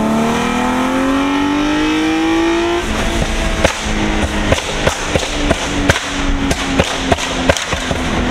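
A Nissan Altima SE-R with a new intake manifold accelerates hard in second gear, the engine note rising steadily before a shift, then sharp popping cracks and crackles from the exhaust, loud and close with no talking.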